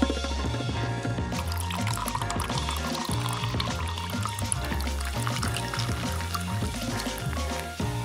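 Fanta soda pours into a glass with a steady liquid gush and fizzing trickle, partly masked by loud rhythmic background music running throughout.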